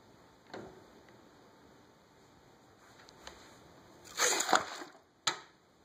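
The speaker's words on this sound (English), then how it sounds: "we're going to invert it into a pan of cold water" A hot can flipped upside down into a pan of cold water makes a brief splash and slosh, followed moments later by a sharp crunching pop as it collapses, heard close after a quiet stretch.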